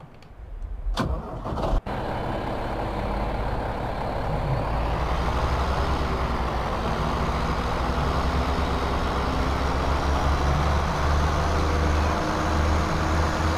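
Tractor engine in Farming Simulator 2015 cranking with a couple of sharp clicks, then catching into a steady loud, droning idle that holds evenly without any talk.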